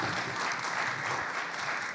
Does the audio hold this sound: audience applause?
yes